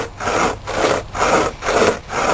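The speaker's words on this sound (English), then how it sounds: "And it's just that nice sawing motion." A Gerber SaberCut saw cuts through a 4-inch piece of wood in four or five even back-and-forth strokes, each a loud, close rasping push with short pauses between.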